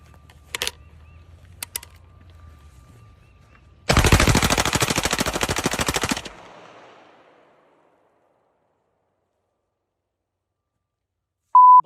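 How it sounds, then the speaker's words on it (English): Gunfire aimed at Bud Light beer cans comes as a dense rapid burst of automatic shots lasting about two seconds. A couple of sharp isolated cracks come before it, and a short tone closes the clip. "He decides to open fire on some cans of Bud Light."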